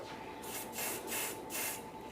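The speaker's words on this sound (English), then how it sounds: "I have this color spray. I'm going to give it a couple little pops here." A color spray can, used while making foam-bead slime, lets out three short, soft hissing bursts in close succession, fairly faint and close by.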